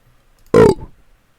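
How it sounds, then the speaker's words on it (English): A single loud, short burp from a person right at the mic, sharp onset with a brief trailing rasp, otherwise quiet. "I'm gonna burp again."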